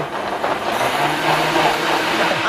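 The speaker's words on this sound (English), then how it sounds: "We're gonna blend this into a paste." Blender running steadily, mixing a marinade paste of soy sauce, sesame oil, sugar and 7-Up; a loud continuous whirring motor drone sounds throughout without speech.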